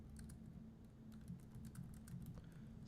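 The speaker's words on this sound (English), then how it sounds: "I want to type something here." Fingers tap steadily on a computer keyboard, a quiet, close run of uneven clicks over a low background hum.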